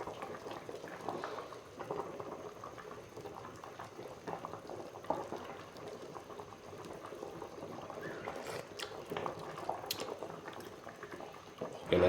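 Mackerel soup with moringa leaves boils in a pot, a steady close bubbling and gurgling that runs on evenly, with a few faint knocks near the end.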